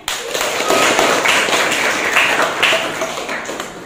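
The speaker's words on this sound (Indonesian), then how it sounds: "Oke, terima kasih kelompok 1. Berikan tepuk tangannya." Applause from a classroom of students for a group that has just finished presenting, steady dense clapping close by for several seconds with almost no talking.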